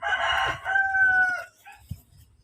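A Rhode Island Red and Basilan crossbreed rooster crows once nearby, a loud drawn-out call that fades after about a second and a half, followed by a soft cluck and quiet farmyard noise.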